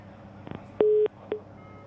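Telephone busy tone after a call disconnects on a phone-in line: a steady electronic tone lasting about a quarter second, then a short clipped repeat, following a few faint clicks.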